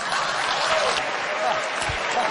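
Continuous applause from an audience at a political campaign event after Jeb Bush asks for it, a dense, steady wash of many hands clapping with no clear voices.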